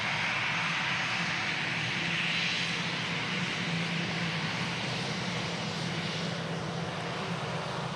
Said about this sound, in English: Aer Lingus, Airbus A320.